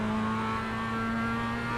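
A Mazda MX-5 race car engine running steadily on track, a sustained droning hum with strong even tones holding constant pitch, loud and close as it moves up a gear.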